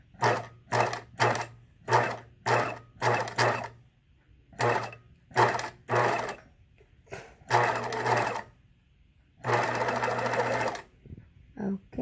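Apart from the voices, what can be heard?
sewing machine stitching a Hong Kong finish seam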